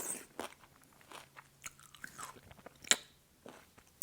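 Someone bites into a kumquat and chews it, a few short crunchy bites followed by soft, moist chewing close up, with no talking.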